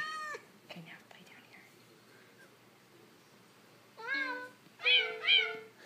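Cat meows played from an iPad app, several bright, close meows in two clusters near the end after a short one at the start, with quiet voices murmuring in between.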